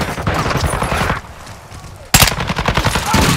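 Rapid automatic gunfire from Call of Duty: Modern Warfare II, loud and close, rattling in bursts before a short lull and then a sharp blast followed by more firing.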